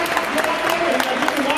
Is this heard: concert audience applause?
yes